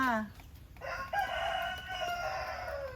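A rooster crows loudly and close by on a rural Thai garden farm, one long rising-and-falling call followed by a steady ringing tone, with other birds and faint farmyard noise behind.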